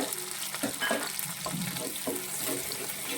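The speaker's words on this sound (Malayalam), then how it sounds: "പച്ചമുളക് ഇതുപോലെ ചെറുതായിട്ട് അരിഞ്ഞിട്ട് എണ്ണയിലോട്ടിട്ട് വഴറ്റണം" Finely chopped green chillies fry in oil in a pan for a traditional Kerala banana-stem curry. A soft, fairly quiet sizzle runs throughout with a few light stirring scrapes.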